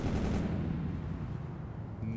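Big weapon fire in the video game Teardown, a dense, loud roaring blast that rumbles on for about two seconds at steady volume, with no talk.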